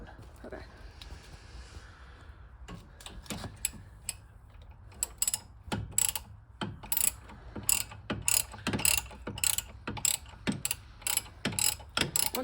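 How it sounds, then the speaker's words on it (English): A hand ratchet clicks in repeated bursts while bolts are removed from the front brake caliper of a Nissan Z31, the sharp ticks fairly close and regular, with a faint hum behind them. "and then let Lawton take that caliper off"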